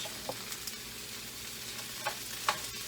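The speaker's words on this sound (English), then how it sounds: "Alright, so I'm going to let those saute a little bit." Frozen diced green peppers sautéing in a pan for chicken fajitas, a soft, steady sizzle with a few faint clicks of stirring, quiet and alone.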